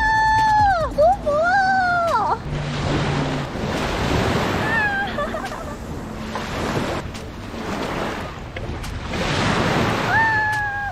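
Sea surf washes steadily onto a beach in Penghu while someone wades in cold water, a continuous broad rush that swells and ebbs, with brief vocal exclamations near the start and end.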